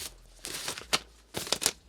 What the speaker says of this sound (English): Then I have those plastic gloves.